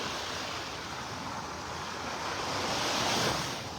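Warm Gulf ocean waves washing onto a beach at North Naples, Florida as the tide turns, a continuous close roar of surf with a slow swell near the end, mixed with some wind buffeting and no voices.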